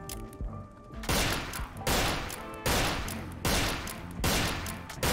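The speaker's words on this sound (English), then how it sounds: "we managed to finish things off with the shotgun" Heavy shotgun blasts and gunfire in Fallout New Vegas, five loud booming shots spaced roughly a second apart, each ringing out with a short decay.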